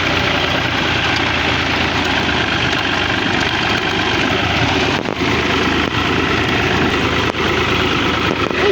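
A tractor engine idles loudly and close by, a steady low throbbing rumble with slight knocking that runs unbroken throughout, with no talk over it.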